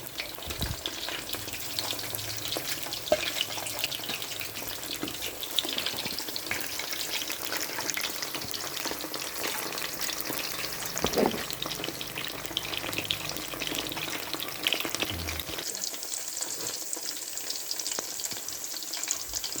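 Homemade restaurant-style chicken lollipops deep-frying in hot oil make a constant, bubbling hiss that holds steady for a long stretch, near and moderately loud, with no voices.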